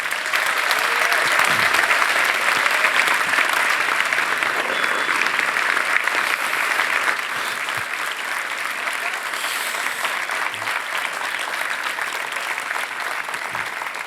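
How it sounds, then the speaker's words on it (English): A large audience applauds Bear Grylls at a faith-themed gathering, a dense, steady wash of clapping that holds strong for the whole stretch, easing slightly in volume partway through without stopping. "Let's give a massive round of applause for Bear Grylls."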